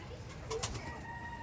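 Madrasi pigeons in a home loft give a soft, brief coo, fairly close, over a steady low background hum.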